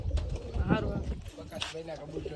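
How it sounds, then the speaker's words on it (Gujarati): Kaldum pigeons coo in a low, rolling pattern, with someone talking over them throughout and other bird sounds mixed in nearby. "જો કે મસ્ત મસ્ત કબૂતર છે"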